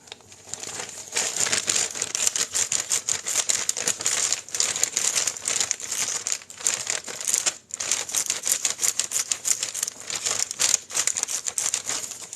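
Crisp scrap paper is crumpled and torn for paper crafting, producing dense, rapid crackling and crinkling bursts up close with brief pauses between handfuls.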